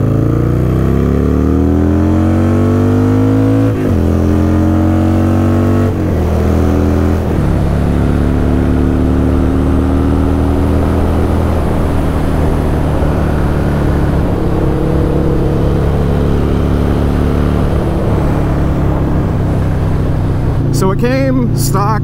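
A custom Harley-Davidson Iron 883 motorcycle with a 1200 kit accelerates hard, its loud engine climbing through several gears with rising revs and shift breaks, close and continuous, with voices heard under it.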